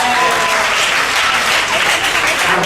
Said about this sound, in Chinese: 所以我们先拍手来谢谢香云餐厅